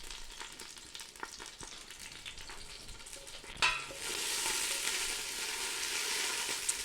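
Celery leaves drop into hot oil and break into a steady, bright sizzle after a few quiet kitchen clinks, the frying hiss carrying on alone until the end.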